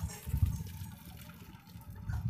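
Boiled noodles tipped into a strainer in a home kitchen, water pouring and splashing out in a soft, uneven gush that swells and fades, faint and fairly close, with no talk.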